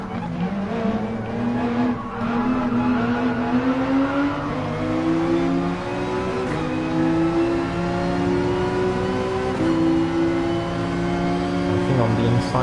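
Race cars on the Nürburgring GP circuit in Gran Turismo Sport roar steadily as engines rise and shift through gears, with tire squeal and continuous loud motor drone; someone talks over the racing.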